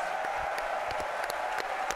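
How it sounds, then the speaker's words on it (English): Studio audience applauding guests at a Dota 2 TI8 broadcast, a steady wash of clapping with scattered sharper claps, held at moderate loudness throughout. "Ladies and gentlemen, a big round of applause to all of our guests."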